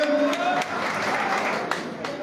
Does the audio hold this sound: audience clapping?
yes